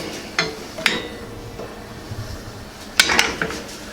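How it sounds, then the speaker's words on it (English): A spoon scrapes and clinks against a pan as spaghetti squash is stirred in bacon drippings, giving a few sharp metallic knocks between quieter stretches of soft sizzle. "So now we're going to put this into the pan with the bacon drippings. Give it a little stir."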